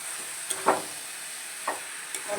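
Banana flower (mocha) is stir-fried with spices in a pan, where a soft background sizzle runs beneath a few brief scraping stirs spaced about a second apart. No one speaks.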